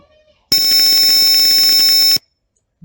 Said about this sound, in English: the buzzer and LED are turned on